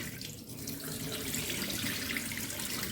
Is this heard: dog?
no